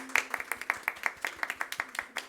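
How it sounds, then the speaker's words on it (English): Audience applause for the speakers at a women-in-tech innovation panel, a steady run of sharp, evenly spaced claps from a small group, close and fairly loud. "A round of applause for our speakers"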